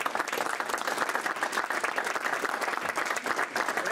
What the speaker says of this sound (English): all Rotarians, please join me in applauding Mike's efforts